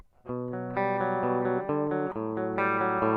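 A bass guitar plays with a clean, undistorted tone: a run of sustained, evenly picked notes that change pitch every half second or so, loud and close with no talk over them.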